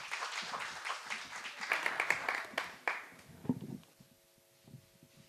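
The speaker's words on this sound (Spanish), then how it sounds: "La recibimos con un fuerte aplauso" An audience at a talk on horse breaking and training applauds to welcome the speaker, a burst of clapping that swells, then thins into scattered claps before fading, with faint murmuring after.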